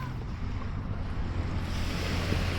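Steady ocean waves wash and roar continuously at Matnog, Sorsogon, mixed with wind buffeting the microphone, with no voices.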